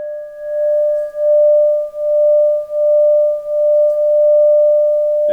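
A Tibetan singing bowl is struck gently and rings with a pure, steady, sustained tone and a faint higher overtone. It pulses softly as it rings on, loud and close, with no talk.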